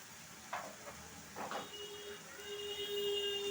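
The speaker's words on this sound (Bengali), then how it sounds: "আমি মশলাটা ভালোভাবে এবার ভেজে নেব।" Coriander and turmeric powder fry in a pan for a jackfruit and chana dal curry, giving a soft, low sizzle. A couple of faint stirring scrapes sound near the start, and the sizzle swells slightly toward the end.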